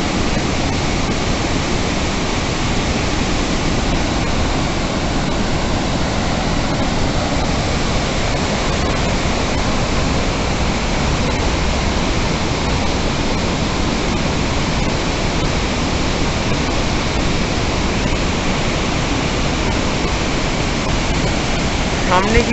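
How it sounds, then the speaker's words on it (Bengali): Water released through the open gates of the Teesta barrage roars in a dense, unbroken rush, loud and constant throughout like a waterfall, with no other sounds standing out. "তিস্তা ব্যারেজে জল ছাড়ার ফোর্স দেখুন"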